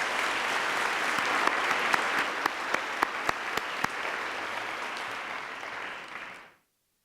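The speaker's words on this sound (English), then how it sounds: "another round of applause, please, for John, Harry, and Brian." An awards-event audience at the Father of the Year Awards claps in a full, steady burst, with a few sharp, close hand claps standing out midway before the applause fades and cuts off.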